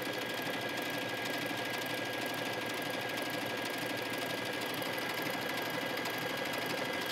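A sewing machine runs a decorative stitch in contrasting thread while hemming leggings, a steady, close, continuous mechanical whir holding an even level throughout with no talking.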